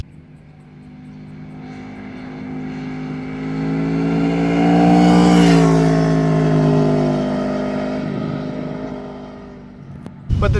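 An Aprilia Tuono V4 1100 RR V4 motorcycle engine rises to a loud, sustained wail, peaks around the middle and then fades slowly as the bike pulls away into the distance.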